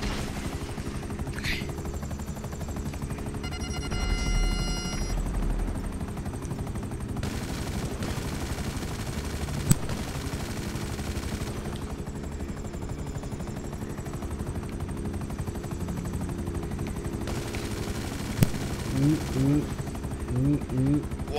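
Aircraft engine in GTA San Andreas drones steadily throughout, a continuous loud mechanical hum with occasional brief clicks and gunfire-like bursts, while people talk over it.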